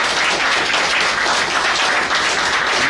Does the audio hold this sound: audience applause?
yes